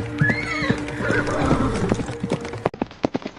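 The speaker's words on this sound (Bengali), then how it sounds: "আর একটা ঘোড়ার টকবক শব্দ ছুটে চলে যায় নদীর ধারে।" A horse whinnies loudly as part of an audio-story sound effect, and galloping hooves follow. The clip-clop beats grow sharper and more distinct toward the end.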